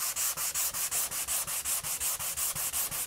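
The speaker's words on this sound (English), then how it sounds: "I got some 320 grit on this block right here" A 320 grit sanding block rubs back and forth by hand over curly walnut for an electric guitar build, a close, even rasping scrape repeating in quick regular strokes throughout.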